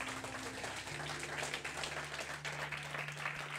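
A church congregation applauds in sustained, dense clapping that fills the room, with a low sustained organ-like tone underneath and no clear talk.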